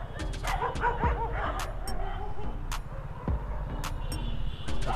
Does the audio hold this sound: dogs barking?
yes